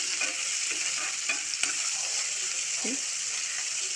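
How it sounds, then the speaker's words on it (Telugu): Underripe tomatoes sizzle in a hot pan with a steady hiss, punctuated by a few soft scrapes and taps as they are stirred, close by. "పచ్చిగా ఉన్నాయి కొంచెం టమాటోలు, అందుకని వేగుతాయి."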